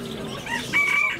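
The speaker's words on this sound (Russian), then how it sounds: "Куры, куры," Chickens clucking close by at a bird market, followed by a rooster's short crow rising over the flock.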